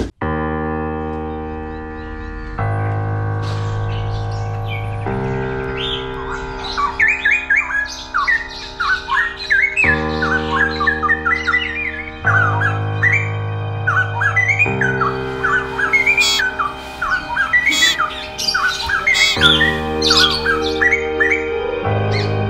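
Many birds in an aviary squawk, chirp and whistle in a dense, steady chorus, with sharp calls overlapping above a constant low hum.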